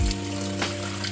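Tap water steadily filling a container at home, a constant broadband rush with a low steady hum beneath, close and continuous without any voices.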